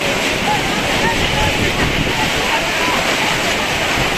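Dense, steady roar of heavy rain mixed with gusting storm wind at an outdoor cattle market, loud and continuous throughout with no breaks.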